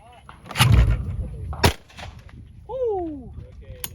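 A shotgun fires at a clay pigeon outdoors: one loud close blast followed by a second sharp report, with a voice shouting in between and afterward.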